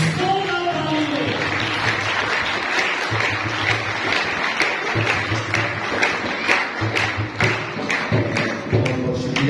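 A congregation at a Sunday Easter Mass applauding loudly and steadily for a priest, dense continuous clapping that fills the room for the whole stretch, with a low rhythmic thumping underneath.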